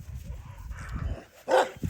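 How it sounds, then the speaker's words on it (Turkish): Kangal breeding dogs on a farm bark and yip in short bursts, with one sharper, louder bark near the end over low rumbling background noise. "Hepsi çiftliğimizin damızlık köpekleri arkadaşlar."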